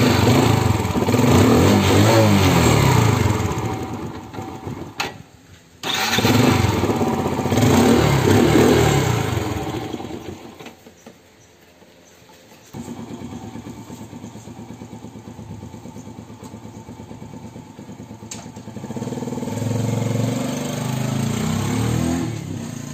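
A Yamaha Sirius motorcycle engine runs close by after an oil change, revving loudly in bursts, cutting out, then idling with a steady, lighter putter before rising again.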